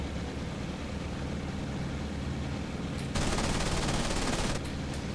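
Machine gun fire in the IL-2 1946 flight game, a steady rattling burst of about a second and a half, loud over a constant engine drone.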